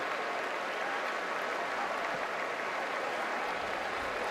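Steady stadium crowd applause at a Louisville vs NC State college football game as an injured player is tended, a broad, even wash of clapping and crowd noise heard from a distance with no break.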